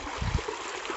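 Stream water runs over rock at Chittampadu waterfall, a steady broadband rush with a few low gurgling thumps near the start, heard alone and fairly close.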